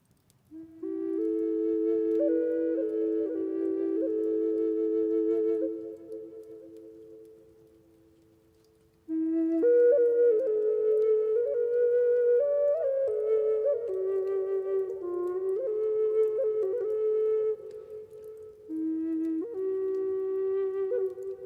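A flute fitted with a 3D-printed key plays a slow, breathy melody of sustained notes, steady and fairly loud, with a pause of a few seconds midway before the phrase resumes alone.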